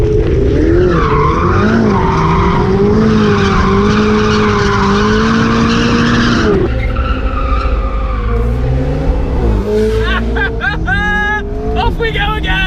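A drifting car pitched sideways at a drift event, tires squealing in long wavering tones under loud engine revving, with someone talking over it nearby.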